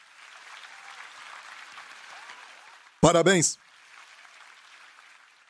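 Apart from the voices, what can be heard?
church congregation applauding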